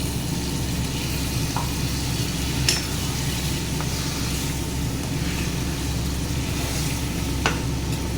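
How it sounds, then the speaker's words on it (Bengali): Chicken curry simmering and sizzling in a pan as water is added, a steady broad sizzle and bubbling throughout with a few faint clinks of a utensil, close and even in level. "এবার জল দিয়ে দিচ্ছি।"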